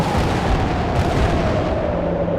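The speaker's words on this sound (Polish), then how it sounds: "A chcę użyć póki co nalotu" Airstrike explosions in Worms 3D, a loud continuous rumbling barrage of blasts that stays dense and heavy throughout, with no voices.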